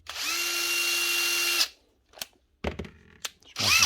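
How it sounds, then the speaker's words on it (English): A Panasonic cordless power tool motor whirs steadily for about a second and a half, then stops; a few brief clicks and short bursts follow, with the motor starting again at the end. Close and fairly loud, with no talking. "She's going from forward to reverse, and the motor's running."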